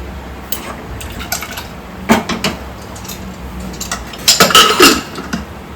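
Metal pots and a pressure cooker being handled in a home kitchen while small potatoes are readied for boiling: a few sharp clanks and scrapes close by, with a louder cluster of clattering near the end and no talking.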